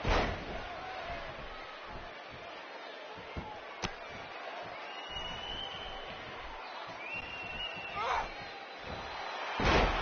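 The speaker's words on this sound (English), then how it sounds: "And she slams her back down." A women's wrestling match in a crowded arena, with a body slam thudding onto the mat and a hard impact at the very start and end, over steady crowd noise and cheering, with a commentator talking throughout.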